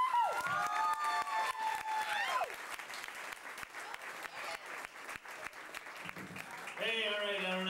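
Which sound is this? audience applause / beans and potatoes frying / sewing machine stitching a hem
audience applause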